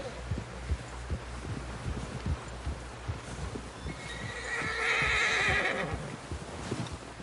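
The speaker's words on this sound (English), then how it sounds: "Someone help John down off this horse" Horse neighs and hooves clop in the Red Dead Redemption 2 video game: steady hoofbeats, then a loud, drawn-out whinny in the middle, over a low ambient bed.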